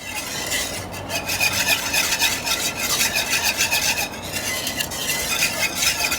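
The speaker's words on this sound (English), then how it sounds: "now we are going to keep stirring this sauce here" Sauce being stirred in a cast iron pan for croque monsieur, a continuous scraping, rasping rub of utensil against metal, close and fairly loud.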